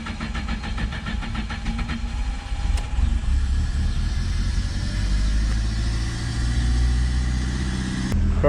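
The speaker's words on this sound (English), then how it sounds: "Jump in and crank on her again," A car with a freshly replaced fuel line hose cranks and runs, a loud, close engine settling into a steady idle, with a couple of sharp clicks near the start and end.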